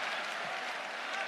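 Spectators at an FMS Peru 2023 freestyle rap battle clap, a brief dense burst of applause with crowd noise filling the whole moment.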